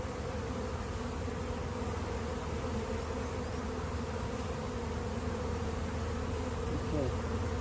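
A bee swarm buzzes continuously while being boxed, a steady dense hum of many bees close by, with no talking over it.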